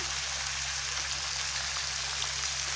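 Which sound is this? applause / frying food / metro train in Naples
frying food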